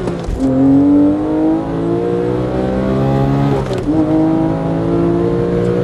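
A sports car launches hard off a clutch dump, its engine note climbing loudly and close for several seconds, breaking briefly at a gear change, then rising steeply again in the next gear.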